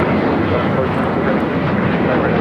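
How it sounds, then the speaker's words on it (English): A United Airlines Airbus A321neo jet airliner at Los Angeles airport gives a loud, steady broadband roar that stays constant for the whole moment, with no break and no speech over it. "So a lot of them being replaced by the A321neo. That's what we see here with United."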